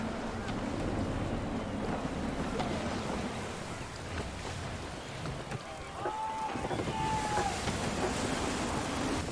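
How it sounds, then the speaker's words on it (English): Gusty wind at sea in Assassin's Creed 3 blows in a steady, full roar with rushing water and creaking sailing-ship sounds underneath, while a voice speaks briefly. "Gusty winds can be difficult to manage."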